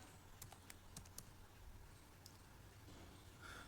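Keys on a computer keyboard tapped out in a short burst of a few quick clicks to type a command, then a pause, all fairly faint over a steady low room hum.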